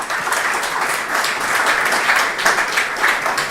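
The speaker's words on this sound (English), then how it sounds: "Let's give another round of applause." An audience at a research conference plenary session applauds in a steady, dense burst of clapping that is loud and sustained throughout, with no voices standing out.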